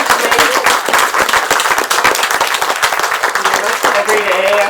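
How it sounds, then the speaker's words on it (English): Steady applause from an audience, dense clapping filling the whole stretch without pause. "can we just give another round of applause?"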